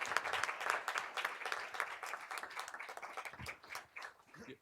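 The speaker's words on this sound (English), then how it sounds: "Yes, another round of applause" A round of applause at a school board of education meeting, irregular clapping from a modest crowd that swells and thins in uneven bursts, fairly close and without speech.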